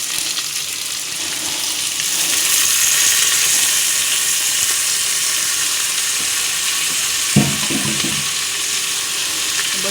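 Onions and potatoes sizzle together in a pan while cooking khichdi, a steady loud frying hiss throughout with one brief clatter near the end, no talking.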